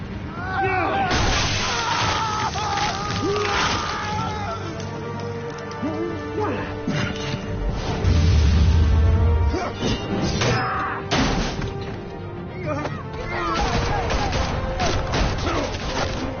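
Gunfire and crashing impacts in a Batman Telltale action sequence, thick repeated blasts and thuds layered over game music and shouting voices, loud and continuous throughout.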